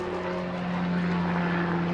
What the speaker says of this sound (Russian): Как какой-то самолет пролетает.